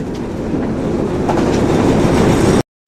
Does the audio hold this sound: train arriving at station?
yes